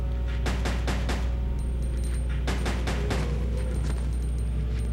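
Gunfire in the video game Resident Evil Code: Veronica comes as clusters of sharp, loud shots in two quick bursts over a steady low background hum.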